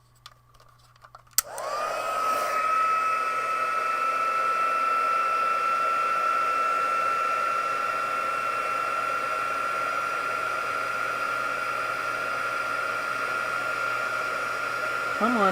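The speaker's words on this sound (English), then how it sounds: "I have to turn my heat tool on" A heat embossing tool starts with a click and then blows hot air in a steady, loud whirring drone with a high whine, running close and unbroken.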